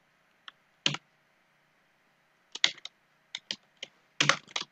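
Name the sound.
typing on a computer keyboard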